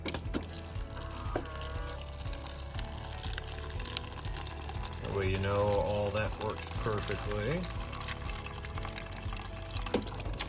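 Water runs from the door dispenser of a Kenmore 26.1 cu ft refrigerator into a container, a steady close pour with rising filling tones, while someone talks over it.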